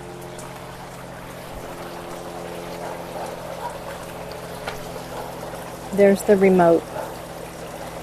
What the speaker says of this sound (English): It's just a really slow trickle.